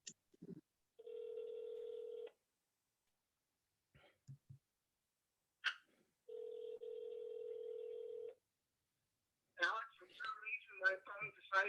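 Phone line tones while dialing out to a meeting participant on a library board call: two steady tone stretches separated by brief clicks and quiet, followed by short muffled voice fragments at the end.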